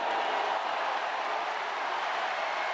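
Steady, dense crowd applause fills a Paralympic wheelchair tennis venue in Paris, a continuous wash of clapping and cheering from a large audience with no distinct voices on top.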